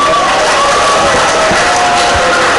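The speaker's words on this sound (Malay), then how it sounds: "berikan tepukan sekali lagi kepada Johor." Loud crowd applause and cheering fill a hall during a religious youth forum, a continuous roar of clapping and voices at a steady, saturated level.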